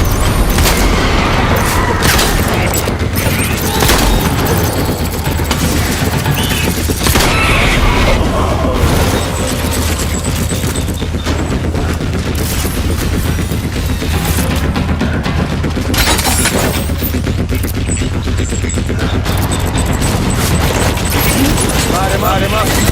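Gunfire in the video game Death Stranding crackles and booms as loud, dense bursts and volleys throughout, with voices talking over the shooting.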